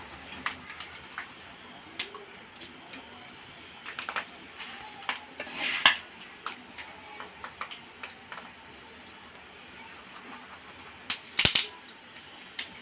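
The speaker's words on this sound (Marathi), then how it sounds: "छान असे खरपूस होईपर्यंत तळून घेऊ हे शेंगदाणे" Peanuts frying in hot oil until crisp for a mixed chivda snack: a faint, steady fizzing hiss broken by scattered sharp pops and crackles, with a louder burst of crackling near the end.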